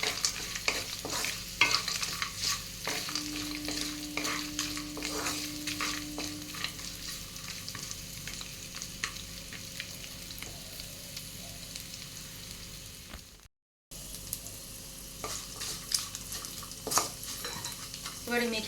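Cashews and raisins frying in oil in a pan while being stirred, a continuous close sizzle with repeated scraping strokes of the spoon, briefly cut out near the end before resuming.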